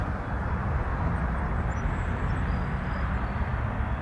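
An airliner departing Toronto Pearson for Newark, its engines giving a continuous, even rumble at moderate distance with no break or rise.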